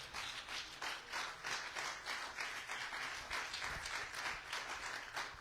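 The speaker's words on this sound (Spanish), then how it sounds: "¿Cuánto le dan un aplauso al Señor?" Church congregation applauding the Lord during a sermon, a sustained, even wash of clapping from many hands, moderately distant and without any speech over it.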